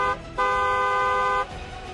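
A vehicle horn honking on an Indian road: one steady, loud toot lasting about a second amid street noise, with no voices.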